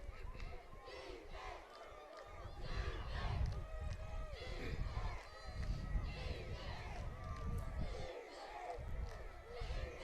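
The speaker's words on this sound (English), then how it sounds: "You can hear the home crowd with the defensive call." A home crowd at a Hancock vs Pascagoula high school football game roars and chants through a defensive call, loud and sustained, with voices shouting throughout.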